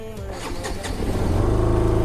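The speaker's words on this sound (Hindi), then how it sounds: "अभी बाइक स्टार्ट करके देखते स्टार्ट होता है क्या नहीं" A motorcycle engine cranks and catches in the evening, rising from uneven sputters into a steady, loud idle rumble close by.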